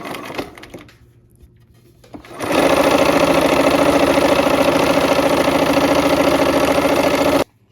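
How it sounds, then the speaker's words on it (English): A sewing machine stitches a whole seam: after a couple of seconds of quiet handling it starts up and runs loud, fast and continuous for about five seconds, then stops abruptly. "So these ones we're sewing all the way off, okay? All the way, the whole entire seam."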